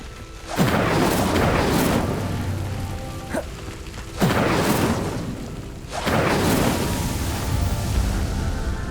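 Three big whooshing fire bursts from the Incendio spell in Hogwarts Legacy, each flaring up loud and roaring before tailing off into crackling flames, spaced a few seconds apart and heard alone.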